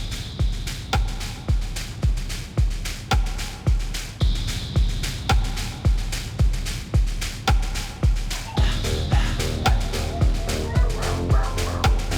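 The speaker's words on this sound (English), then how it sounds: "Look at all these dachshunds. Oh, they're gonna play." A pack of dachshunds barks steadily in a rapid, evenly spaced run of sharp yaps, close and loud as they play, with no talking over them.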